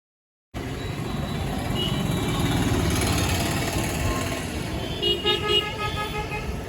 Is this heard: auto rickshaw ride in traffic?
yes